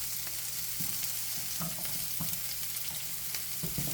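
Chopped onion fries in a pan with a steady sizzle, punctuated by brief stirring scrapes and clatter, close and fairly loud with no talking.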